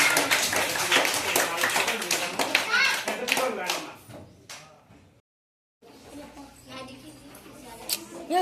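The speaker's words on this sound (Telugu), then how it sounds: "ఒకసారి అందరూ సార్ క్లాప్స్ కొట్టండి" A group of school children clap together in a dense burst alongside children's voices, then the sound drops to near silence before clapping and chatter return.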